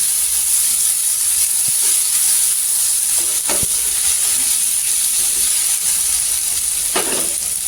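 Tomatoes sautéing in oil for a dried shrimp chutney make a steady, close frying hiss that runs throughout, broken by a few soft stirring scrapes.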